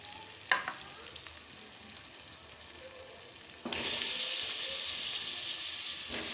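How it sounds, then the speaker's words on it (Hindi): Chicken pieces fry with lightly browned onions in a pan for aloo chicken, starting as a soft sizzle with a clack near the start, then rising into a louder, steady hiss, with no talk. "चिकन इसलिए डाल रही हूँ कि साथ ही चिकन भी फ्राई हो जाएगा"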